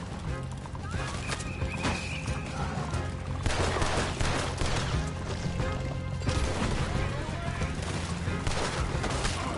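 Gunfire in Red Dead Redemption 2 during a chase through a city, with sharp shots and crashes over horse hooves and whinnies, loud and busy, while voices talk over the action.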